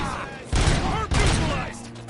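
Gunfire in the RoboCop video game during a police shootout with perps: two heavy bursts of close gunfire, each followed by ringing echoes, with voices talking over them.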